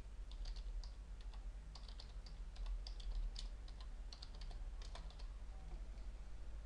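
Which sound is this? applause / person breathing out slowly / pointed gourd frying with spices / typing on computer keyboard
typing on computer keyboard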